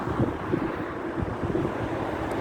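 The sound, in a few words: cold wind at riverside at night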